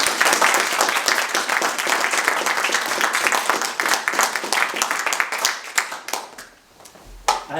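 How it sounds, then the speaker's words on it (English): A conference audience in Sheffield gives a sustained round of applause, dense steady clapping from many hands that carries on for several seconds, then thins out and fades near the end. "Round of applause for Colleen."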